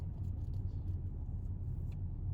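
Citroen C3 1.2 manual car with an 83 hp engine, heard from inside while driving at about 30 km/h near 1100 rpm: a steady, low engine and road drone runs unbroken throughout, with no talking.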